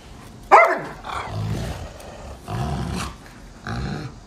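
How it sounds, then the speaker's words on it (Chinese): Angry dog barking and growling at someone pretending to eat dog-meat hotpot, one loud close bark followed by several long, low growls that rise and fade in turn. "洛洛，抱下你的小狗好不好？"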